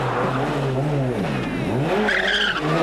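A rally car at the 1991 Manx International Rally skids under too much handbrake at Brandywell Cottage, tyres squealing over a droning, revving engine, loud and close, with commentary talking over it.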